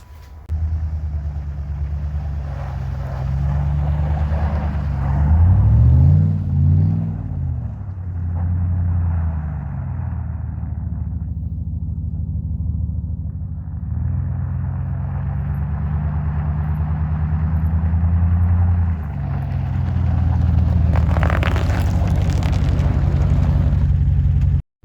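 A 2014 Chevrolet Silverado LTZ pickup fitted with new struts, CV axles and sway bar links rolls along on its first drive, giving a steady low engine and road rumble with a brief surging swell partway through, and no talk.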